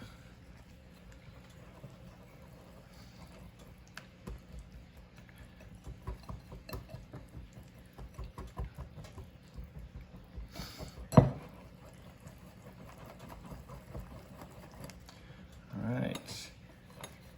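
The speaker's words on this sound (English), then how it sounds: "Now using a whisk, I'm just gonna mix this all together." Gluten- and dairy-free waffle batter being whisked in a bowl, with soft, rapid rhythmic tapping and clicking of the whisk, faint and close, followed by a sharp clink and a brief rustle.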